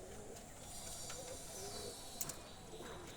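Pigeons kept for sale at a loft give soft, faint cooing in a quiet setting, low murmuring calls with a light background hiss.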